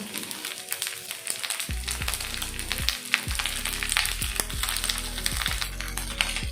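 Rice dumplings fry in oil in a pan, giving a steady close sizzle with crackling pops and a low repeated hum throughout.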